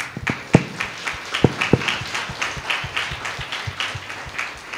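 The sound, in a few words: church congregation clapping loudly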